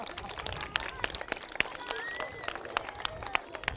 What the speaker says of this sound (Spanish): Le podéis aplaudir también